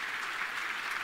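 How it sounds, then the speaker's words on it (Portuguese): An event audience applauds for a speaker, a brief, even wash of distant clapping at low level with no voices on top. "Então, eu quero pedir uma salva de palmas para vocês aqui"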